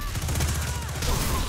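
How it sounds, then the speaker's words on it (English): Rapid overlapping blasts and gunfire in the Destiny 2 PvP shooter, a dense burst of booming explosions and crackling fire packed into a second and a half, loud and continuous. "look at all these explosions"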